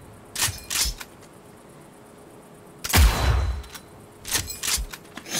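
Gunfire in Cyberpunk 2077 comes in short, loud bursts and single sharp shots with gaps of quiet between them, the heaviest volley falling near the middle.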